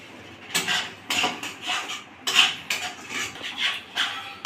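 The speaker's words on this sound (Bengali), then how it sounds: "এবার আমার মশলাটা একদম স্লো রেখে মশলাটাকে ভালো করে মিক্স করতে হবে" Masala for an oil-free chicken curry being mixed in a pan, heard as repeated spoon-on-metal scrapes and clinks in an uneven rhythm, close and moderately loud, with no talking.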